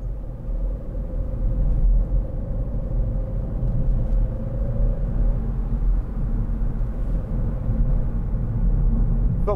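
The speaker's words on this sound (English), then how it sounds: "Bumpy road this, and uneven and poorly surfaced," Cabin of a 2012 SEAT Ibiza 1.4 Sportrider five-door hatchback driving over a bumpy, uneven, poorly surfaced road, a steady low rumble of tyres and engine with no talk.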